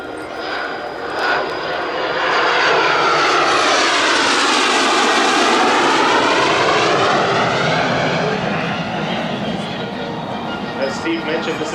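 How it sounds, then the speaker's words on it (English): A Messerschmitt Me-262 jet aircraft flying at an air show demonstration, a loud roaring jet whine that swells as it passes overhead with a sweeping Doppler shift, then slowly fades away. "watching this particular type of airplane fly"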